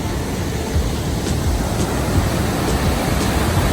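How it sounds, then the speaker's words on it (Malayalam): Steady, dense roar of Jog Falls, India, water plunging 830 feet, broadband and unbroken, filling the whole clip with no voices. "ഈ ഒരു വെള്ളച്ചാട്ടം താഴേക്ക് പതിക്കുന്നത് എണ്ണൂറ്റി മുപ്പത് അടി ഉയരത്തിൽ നിന്നാണ്"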